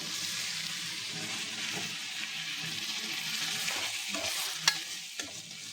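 Raw rice sizzles in oil in a kadai while being stirred, with soft scraping strokes over a steady fry hiss and a couple of sharp metallic clinks near the end.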